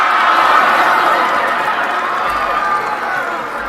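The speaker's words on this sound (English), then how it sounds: "Let's give Richie some applause." Crowd applause rolls along as a sustained wash of clapping and cheering, loud at first and easing slightly toward the end.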